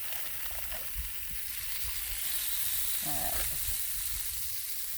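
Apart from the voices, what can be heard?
sausage sizzling on a hot griddle outdoors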